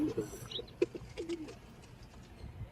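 A female pigeon gives a few soft, low coos up close, while someone talks intermittently in the background.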